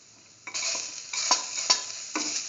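Garlic hits a hot pan for a coconut stew with a loud broadband sizzle, then several scraping stirs keep it frying in steady bursts, close and alone.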